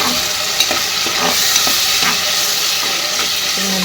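Freshly ground masala fries in a little oil inside a pressure cooker, giving a dense, loud, close sizzle with stirring scrapes and no talking.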